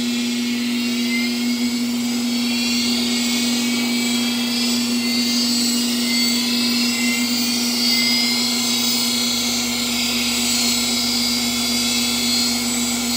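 Grizzly G0704 milling machine running after a belt drive conversion, a steady loud motor and spindle whine with a strong low hum and bright high-pitched tones, continuous and even throughout, with no talking.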